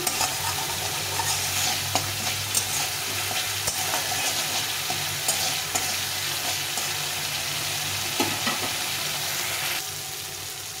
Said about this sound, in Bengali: এখানে ভালো করে কষিয়ে নিতে হবে